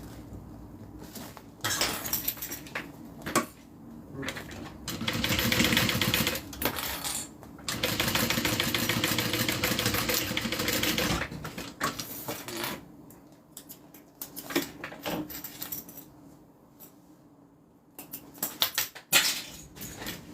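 Sewing machine stitching down a custom order, running in bursts of rapid mechanical stitching separated by short pauses and clicks, close and fairly loud.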